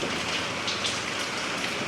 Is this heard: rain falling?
yes